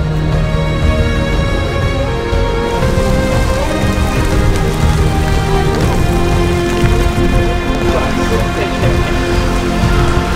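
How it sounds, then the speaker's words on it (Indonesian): Heavy rain pours steadily at the Mandalika race circuit in Kuta, Lombok, a dense, loud, unbroken hiss of drops striking nearby surfaces for the whole stretch, with no voices. "Baru pas mau mulai hujan deras."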